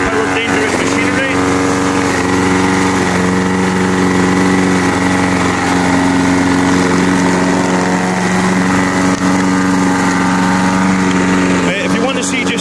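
A small engine drones loud and close at a steady idle, a continuous mechanical hum like a lawn mower running without pause.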